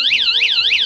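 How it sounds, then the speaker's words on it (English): A personal safety alarm built into a tactical flashlight emits a loud, rapidly warbling electronic siren, cycling up and down in pitch about three times per second, close and steady. "a removable compass with access to a personal safety alarm"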